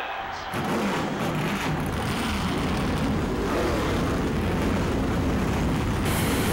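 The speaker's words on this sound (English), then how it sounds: "Engines are fired, folks." Stock car engines fire up together in NASCAR Thunder 2004, a loud, dense, steady roar that swells in after a brief quieter start and holds for several seconds.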